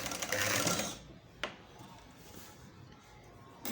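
Domestic sewing machine stitching zigzag lace onto the folded edge of a dupatta, a steady close whirring run for about a second before stopping, followed by a brief sharp click and quiet handling.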